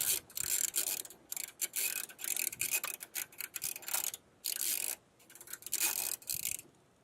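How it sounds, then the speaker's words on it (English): A ratchet loosening a mirror bolt on a 1999–2007 Ford Super Duty truck gives bursts of rapid, close clicking in repeated strokes separated by short pauses, with no talk. "Just shove your ratchet on there. Now loosen it up."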